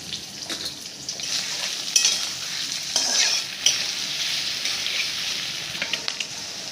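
Onions and bay leaf frying in oil in a wok, a steady close sizzle with stirring scrapes and a few sharp spatula clicks against the pan, no talking.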